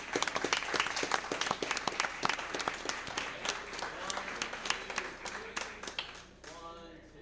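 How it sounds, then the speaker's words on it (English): Audience clapping at a school district board meeting, a steady scatter of individual claps from a modest crowd that thins out toward the end, with a voice starting to speak as it fades. "let's wish them the best of luck with a big round of applause and congratulations"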